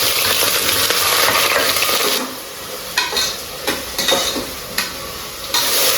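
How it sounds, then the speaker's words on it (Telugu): Sliced onions and green chillies frying in a pan for mutton paya, a loud steady sizzle that gives way to bursts of stirring and scraping with the spoon, with no voices. "ఉల్లిపాయలు బ్రౌన్ కలర్ వచ్చేంత వరకు వేసుకున్నాము"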